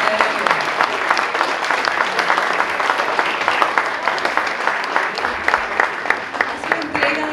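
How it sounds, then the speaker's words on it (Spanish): Sustained audience applause at a wine awards ceremony honoring prizewinning wines, dense steady clapping throughout with a murmur of voices beneath. "Un gran aplauso para todos los premiados."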